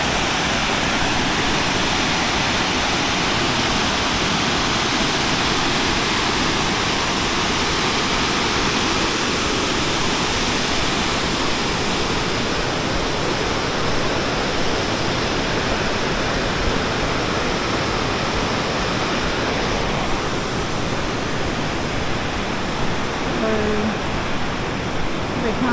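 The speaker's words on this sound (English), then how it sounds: "this is the Ebor Falls. So they're flowing a bit better than the Wallamombi Falls" Ebor Falls pours down in a dense, steady roar of falling water, a loud broadband rush that stays constant from start to finish with no other sounds breaking through.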